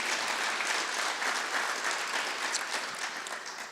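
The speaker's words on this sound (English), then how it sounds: "I appreciate the applause." Audience applause fills a conference hall after a keynote about endurance and a team 100-mile race, steady dense clapping that holds for the whole stretch and eases slightly at the end.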